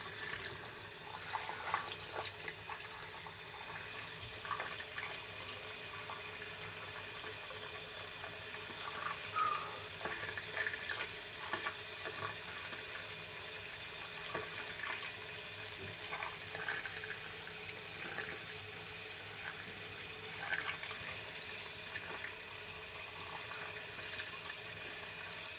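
Heated water runs steadily from a tap in a faint, continuous splashing rush with small spatters and drips, heard alone without talking.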